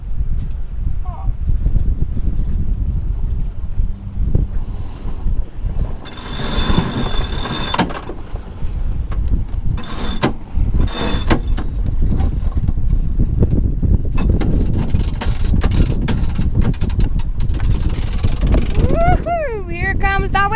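Wind roars steadily across a sailboat under way on a November sunset sail. The loud, broadband rush lasts throughout, with gusty swells and a few faint whistling tones near the end.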